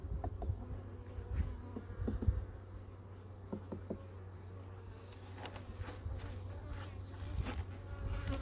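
Honey bees buzz around their hive colonies on a late-autumn check before winter, a steady close drone of many wings with individual insects whizzing past, plus occasional light knocks and handling noises.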